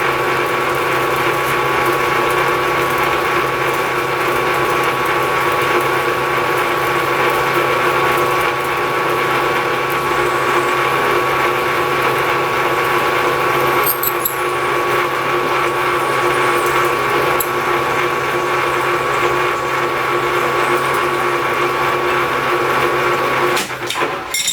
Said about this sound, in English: go through with a larger taper shank drill bit.